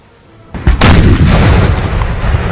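A 3-pounder cannon firing in Napoleon Total War: one sharp, loud blast with a close crack that decays into a sustained low rumble, with no voices.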